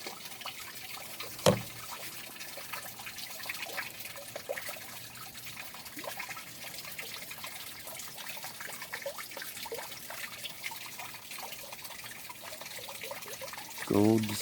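Water and bedrock-crack sand and gravel swirl and slosh in a gold pan, a soft continuous trickling with small gritty splashes and a louder splash at the end, with occasional speech.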